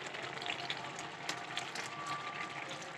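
Spinach and bori curry with new potatoes being stirred in a pan, a steady soft bubbling and scraping hiss with a few brief clinks, fairly quiet and continuous with no talking.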